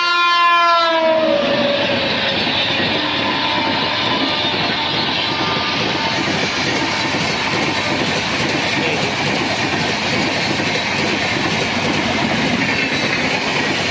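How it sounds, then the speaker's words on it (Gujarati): A Vande Bharat express train passing at full speed, around 110 km/h, opening with a long multi-tone horn blast that gives way to a loud, steady rush of wheels and rail noise. "હોર્ન તમને સંભળાતું છે, હમણાં થોડીક જ વારમાં પાસ થવાની છે।"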